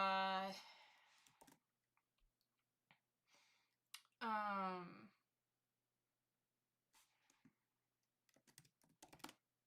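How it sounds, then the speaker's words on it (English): Keys on a computer keyboard clicked in sparse, quiet bursts at close range, with long silent gaps and two brief voiced sounds between them. "Welcome to the keyboard ASMR, which happens when I get really excited and just start typing."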